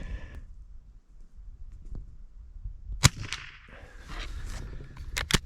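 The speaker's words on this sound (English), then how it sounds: "I'm going to shoot them at the center of the target because I have no idea where this is sighted in." A Winchester Model 62a rifle fired at a target: a sharp shot near the middle, then a couple more quick reports toward the end, set against quiet outdoor background.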